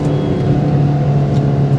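A Maruti Swift with the 1.3 DDiS diesel engine pulls hard in second gear, a loud, steady drone with a strong low tone that holds continuously from close inside the cabin.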